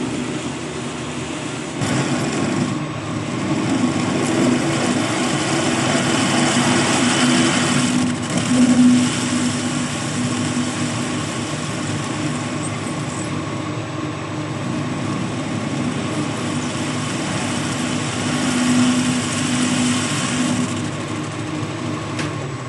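A wood lathe spins steadily while a high-speed steel tool cuts a taper in a log, producing a continuous whirring scrape with slight swells in loudness and no talk.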